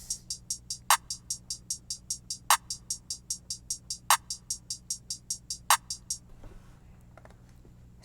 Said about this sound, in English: So I have the clap in D.